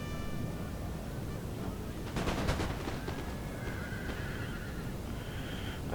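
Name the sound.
cavalry horses and gunfire in a battle video game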